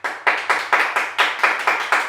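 A group claps in steady unison, nine sharp, evenly spaced beats in just over two seconds, loud and close with no voices over it.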